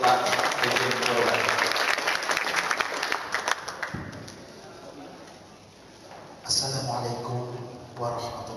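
A debate audience applauds a speaker as he is welcomed to the stage: loud, dense clapping that gradually thins and fades, followed by a voice speaking over the hall.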